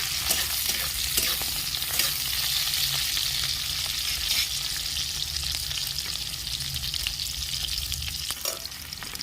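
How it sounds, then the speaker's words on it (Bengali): Chopped onion fries in hot oil, a steady, loud, close sizzle with occasional stirring clicks throughout, with no talk. "পেঁয়াজ কুচি দিয়ে দিচ্ছি পেঁয়াজটা বেশি লাল করে ভাজবো না"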